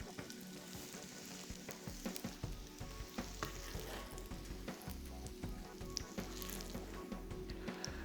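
Kebabs sizzle and crackle in a hot pan as they are gently moved out, a steady bright frying hiss with scattered pops and scraping stirs, close and alone without talk.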